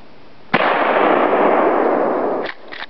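A Remington 870 combat shotgun fires one loud blast at an outdoor target. A sharp report swells into a long roaring tail that fades after about two seconds, followed by a few small clicks.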